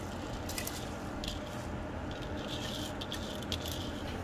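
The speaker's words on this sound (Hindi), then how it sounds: "अब मैं इसमें शामिल कर रही हूँ भिगोए हुए चावलों को" Soaked, drained rice tipped into a pot of boiling water for chana pulao, giving a soft, steady wet patter and squishy crunch with light scattered clicks, faint and close, with no talking.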